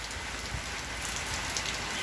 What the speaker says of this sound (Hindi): इतनी बारिश है